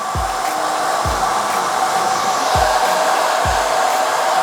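A hair dryer blowing continuously during a flicky blow dry, a loud, close, steady roar with four soft low thumps spaced about a second apart beneath it.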